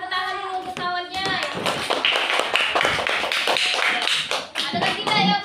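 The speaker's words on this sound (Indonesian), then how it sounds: "Bagi tepuk tangan dulu untuk kawannya." A classroom of pupils claps for a classmate who has just finished reading aloud, with dense, fast hand claps filling the room close by and a few children's voices over it.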